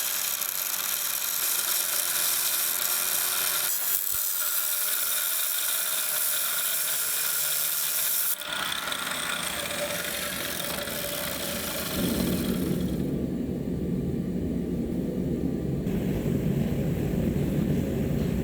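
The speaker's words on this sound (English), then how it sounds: "The fastest and easiest way to do that, in my opinion, is with a cutting disc on an angle grinder." An angle grinder with a cutting disc cuts into a steel axe body. The high whine runs almost continuously, shifts in pitch as the disc loads and frees up, and is loud and close, with no talk.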